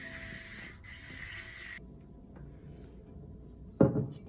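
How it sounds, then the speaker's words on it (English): A brief hissing burst of hairspray near the end, loud and close, following quieter background noise. "I use a little bit of hairspray"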